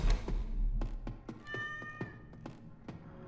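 A cat meows in a therapist-themed video game, a short meow clearly heard amid a series of sharp taps and thumps that land in an uneven rhythm, with no speech.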